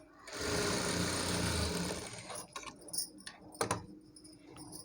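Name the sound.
sewing machine stitching saree fabric into long frock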